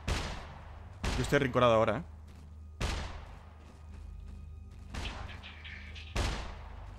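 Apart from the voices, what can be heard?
gunfire from shooting at a rooftop in the video game SCUM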